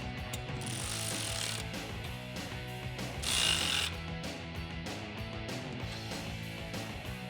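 A ratchet tightens an MBRP exhaust tip clamp on a 2018-2019 Mustang GT cat-back system, with a steady dense run of close metallic clicking and a short louder scraping burst midway, no talking.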